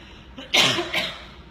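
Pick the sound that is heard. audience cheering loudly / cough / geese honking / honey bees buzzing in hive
cough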